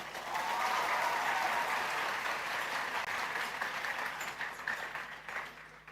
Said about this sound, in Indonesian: Tepuk tangan untuk santri-santri kita.